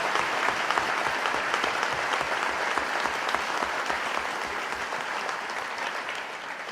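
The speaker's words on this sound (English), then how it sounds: "Congratulations. You can applaud." Dense, sustained applause from an audience at a university graduation ceremony for dentistry and health graduates, holding steady and easing slightly toward the end.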